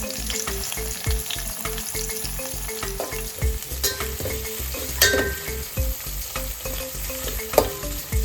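Onions and whole spices sizzle in hot oil for a goat head curry, a loud close fry broken by rhythmic scraping and clacking of a spoon stirring the pan.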